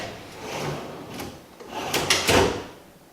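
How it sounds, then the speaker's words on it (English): A full-extension dovetail drawer box with a quiet soft-close runner slides along and settles shut with a soft wooden bump and a brief rustle, close by, with no talking. "Full extension dovetail drawer box with quiet close is an awesome"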